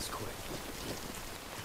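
Steady timefall rain in the video game Death Stranding Director's Cut, a dense, even hiss of falling rain that stays level throughout.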